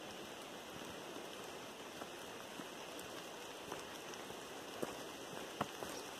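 Steady rain patters on a mountain trail near a small pond, a soft even hiss with a few scattered louder drops standing out.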